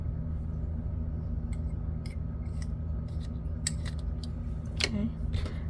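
Scissors cutting knitting yarn, a few short crisp snips close up over a steady low hum.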